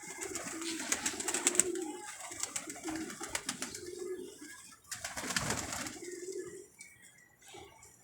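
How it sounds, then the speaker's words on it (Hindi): Rampuri pigeons cooing in repeated soft, throaty bursts, close and moderately loud, with faint wing flutters and rustling between the calls. "ये काला चीना रामपुरी कबूतर लाया पकड़ के"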